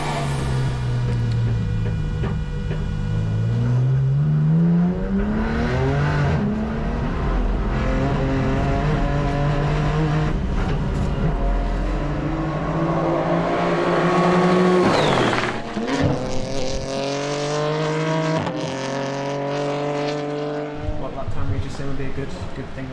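A BMW M4 GT4 race car lapping a track, its engine close and loud, pitch climbing through gears and dropping at shifts, with brief tire squeal as it brakes and turns.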